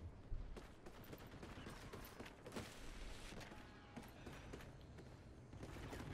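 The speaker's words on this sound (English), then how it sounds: "I'm hearing gunshots." Scattered video game gunshots crackle at a distance in Infinite Warfare in irregular bursts over a dense, rumbling background.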